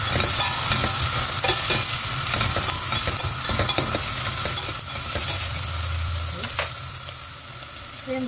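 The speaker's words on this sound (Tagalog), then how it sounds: "lalagay na natin yung ating onion. Ayan, gisa lang natin." Onion sautés in a pan with a constant bright sizzle, while a spatula scrapes and taps repeatedly throughout, close and fairly loud.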